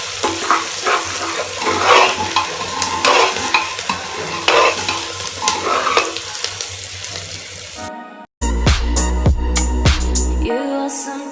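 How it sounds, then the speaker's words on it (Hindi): Onion frying with salt in a pan for Sindhi-style rajma masala, a loud, steady sizzle with stirring scrapes, then cut to a different sound with music-like tones near the end. "नमक से ये कांदा जल्दी से फ्राई हो जाता है।"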